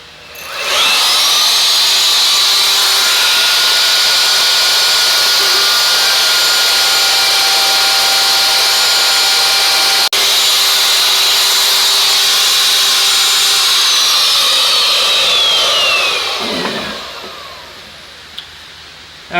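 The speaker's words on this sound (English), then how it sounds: "let's go ahead and get to routering." Wood router cutting a part for a toolbox, a loud, steady high-pitched whine that spins up, holds for about fifteen seconds, then winds down to quiet with a small knock after.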